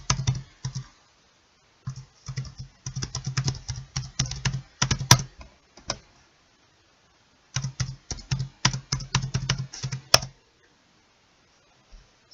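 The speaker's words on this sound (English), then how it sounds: "I'm going to type in my username." Username typed on a computer keyboard in bursts of quick, close key clicks, with short pauses between runs and a couple of sharper clacks, likely from the spacebar or enter key.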